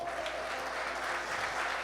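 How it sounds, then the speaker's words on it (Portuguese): Church congregation clapping during a sermon, a dense, sustained wash of applause that fills the short stretch without a break. "Aplauda o nome do Senhor."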